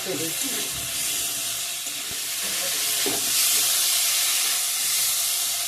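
Potato and cauliflower being stir-fried with spices in a pan, a steady close sizzle and hiss with occasional scraping stirs throughout.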